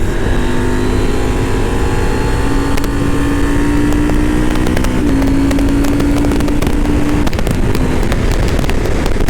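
A 2023 KTM 890 Adventure motorcycle engine revs and accelerates hard out of a corner on a wet, gravelly road, its rising drone steady and loud under heavy wind buffeting.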